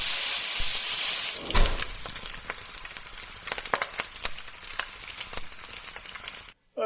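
Bacon frying in a pan hisses steadily at first, then settles into a close, crackling sizzle with scattered pops, followed by a brief clatter at the end.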